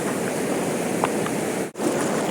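Fast-flowing river water rushing past while people wade across a mountain stream near Maldevta, a loud, steady roar of water close by with no talking.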